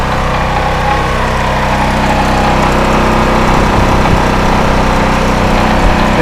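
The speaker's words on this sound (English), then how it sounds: "It's a 7 horsepower generation 2 engine," A Durostar DS4000S gas generator with a 7 hp engine runs steadily outdoors during a snowstorm, a loud, constant mechanical drone with no talk over it.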